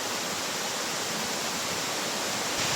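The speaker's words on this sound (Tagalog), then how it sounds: "mao ni oh, kusog kayong tubig diri" Rushing water of Panas Falls in New Corella, Davao del Norte, roars steadily and loudly, a dense, unbroken wash of noise like a waterfall close by.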